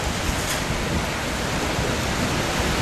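Steady, dense rain pours down during a storm in Rangsit, a loud, continuous hiss that fills the scene with no talk over it.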